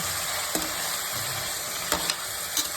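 Vangi bath masala fries in a pan with a steady close sizzle, while a spoon stirs it and scrapes the pan in a few soft, scattered clicks. No voices are heard.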